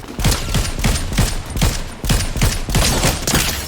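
Rapid bursts of Fortnite gunfire crack out in a steady rhythm, loud and close, with several shots per second repeating across the clip and no talking.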